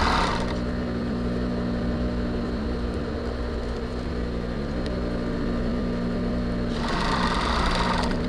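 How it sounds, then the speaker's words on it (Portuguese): A sewing machine runs in one long steady burst, stitching lining fabric and foam padding at the neckline of a lace crop top with molded cups, its motor humming close and continuous before speeding briefly near the end. "eu vou pegar pra começar nessa parte do decote aqui, ó. as duas partes do meu forro e a minha manta e vou passar uma costura fechando aqui"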